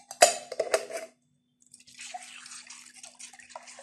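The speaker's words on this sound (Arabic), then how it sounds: "غادي نضيف لنا شويه ديال الماء باش نحيد هذاك العسل اللي باقي" Warm water is poured into a pan in a kitchen, with a few splashing clinks and splashes, a short pause, then a soft, steady trickle of liquid at close range.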